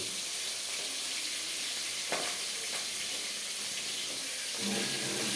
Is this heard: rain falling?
no